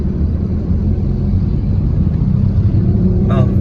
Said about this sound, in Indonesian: ini jalanannya lumayan rame nih di Harmoni. Nah, ini di baliknya juga busnya banyak banget tuh